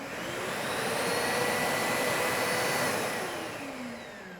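A Festool vacuum extractor, paired with a Kapex KSC 60 mitre saw, runs at a steady loud roaring whine that swells slightly and then eases near the end, with no voices.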